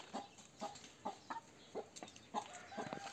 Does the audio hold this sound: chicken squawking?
yes